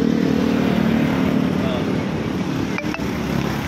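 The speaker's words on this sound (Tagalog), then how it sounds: "Tumakbo na palang motor ko." An NS125 FI motorcycle engine runs steadily after being repaired for a loss of pulling power, a continuous close-up drone with a brief dip near the end.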